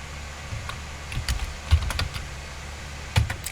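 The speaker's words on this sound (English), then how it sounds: "hit the tab key" Keys tapped on a computer keyboard during spreadsheet work, a few scattered light clicks with a couple of firmer presses, close and fairly quiet, with no voices.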